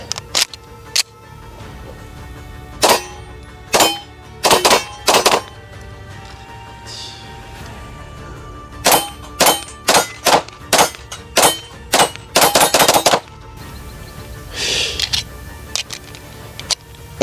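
An Atlas Gunworks Erebus pistol fires close and loud in rapid strings of sharp cracks: a few spaced shots, then quick bursts and a fast cluster near the end, with quiet gaps between.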